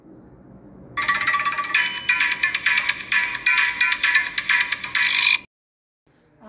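A mobile phone rings loudly with an incoming call from an unknown number, a bright repeating ringtone lasting about four seconds before it abruptly cuts off.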